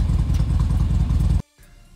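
A 2015 Harley-Davidson Dyna FXDB warming up at idle, a loud, close, lumpy V-twin rumble for over a second that then cuts off abruptly, followed by faint background noise.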